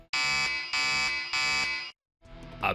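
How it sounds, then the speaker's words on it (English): A looping alarm sound effect from The Binding of Isaac, meant for a boss intro screen, blares in three loud, even buzzing bursts, then cuts out before a short, noisier burst swells at the end. "an alarm sound effect, which based on its file name, looks like it was meant to be used for the intro versus screen for fighting a boss"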